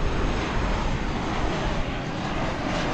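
An American Airlines airliner, a flight in from Albuquerque, arrives at DFW airport with a steady, broad engine roar that stays loud and even throughout, with no talk over it.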